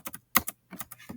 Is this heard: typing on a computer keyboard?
yes